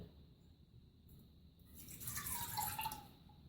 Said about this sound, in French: puis vous mettez l'eau